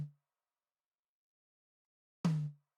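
A MIDI tom drum struck with a gate cutting its tail short, one clear hit after silence and the tail of another at the start, each decay chopped off abruptly.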